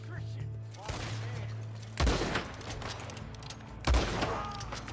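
Rifle fire in the game Red Dead Redemption 2: three loud, sharp shots spaced about two seconds apart, each with a booming echoing tail over a low ambient hum.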